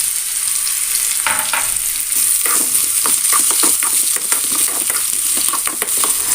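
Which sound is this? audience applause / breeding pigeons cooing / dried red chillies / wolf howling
dried red chillies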